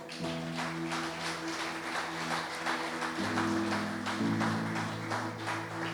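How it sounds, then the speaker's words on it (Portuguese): A church congregation claps steadily for several seconds for a pastor while sustained keyboard or organ chords play underneath. "Pode aplaudir ele, por favor?"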